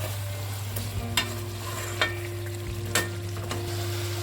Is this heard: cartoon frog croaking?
no